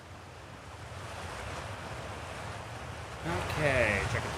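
Rushing water from a waterfall in the video game Outer Wilds, a steady broad roar of falling water that swells louder toward the end with a brief tonal chime over it.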